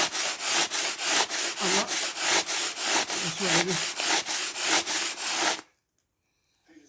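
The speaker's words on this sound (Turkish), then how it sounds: "Yağ taşı düzeltme işlemi arkadaşlar." An oil sharpening stone is flattened by rubbing it back and forth on an abrasive surface, producing about fourteen even, close, gritty strokes in a steady rhythm before falling silent.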